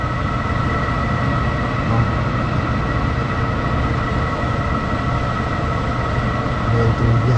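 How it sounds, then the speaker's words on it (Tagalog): A loud, steady mechanical hum and whir from a noisy window air conditioner's condensing fan motor with worn bearings, running continuously with a constant tonal drone. "Iba yung tunog ng condensing fan motor niya."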